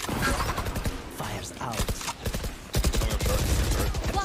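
Dense Valorant gunfire rattles in bursts through a busy firefight, loud and continuous, with players talking over the shooting.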